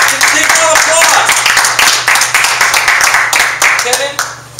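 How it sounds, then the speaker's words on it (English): Audience at a Modesto networking event clapping to welcome fitness expert Kevin Yates, a dense, loud burst of applause with voices cheering and talking through it. "please welcome Kevin Yates! Big round of applause!"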